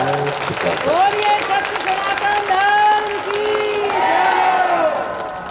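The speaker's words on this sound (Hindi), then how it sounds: "सनातन धर्म के लिए एक बार जोर से तालियों का स्वागत करते हैं" A crowd at a religious discourse applauds, with clapping and cheering spread across the whole stretch, mixed with raised voices and whistles.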